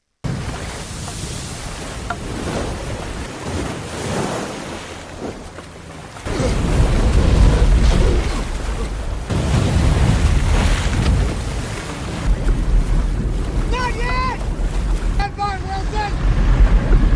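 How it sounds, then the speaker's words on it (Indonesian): Rough ocean waves and wind batter loudly against a small modified raft, with boat and water noise surging and a voice talking over it. "Chuck berhasil melewati gelombang ombak tertinggi"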